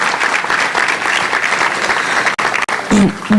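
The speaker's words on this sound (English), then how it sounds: "So applause." Steady applause from a crowd fills the room at a mayoral town hall in Philadelphia, with brief gaps near the end and a voice speaking over it.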